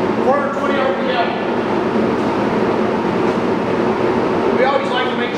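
A Monarch 22.5 x 96 engine lathe runs at 420 RPM with a steady, dense mechanical rumble and whir throughout. A voice talks over the machine noise.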